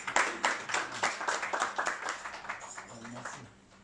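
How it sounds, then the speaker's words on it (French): A small church congregation at a Sunday family service claps in a loose, uneven rhythm, fairly soft and close, tapering off near the end. "On applaudit quand même."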